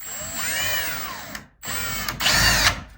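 A power drill runs in two close bursts with a brief stop between, its motor pitch dipping and climbing as it bites into a wooden cabinet door.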